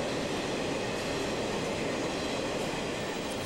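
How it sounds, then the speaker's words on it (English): A dense, steady rumble of a passing freight train, close and loud, with constant rolling noise and no voices. "the railroad wants to move those trains quickly"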